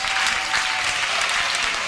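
Audience applause at an outdoor community tent theater event, a dense, even burst of clapping from a large crowd, loud and sustained without pause.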